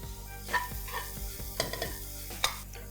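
Shards of egg being stir-fried in a pan for Indo-Chinese fish fried rice: steady sizzling with several quick scraping tosses of a utensil against the pan, close and clear, no talk.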